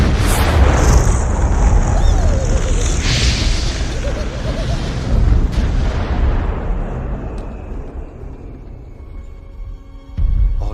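A Siberian firecracker goes off in a heavy, roaring blast that rumbles loudly for several seconds and slowly fades, ending with a sharp second thump.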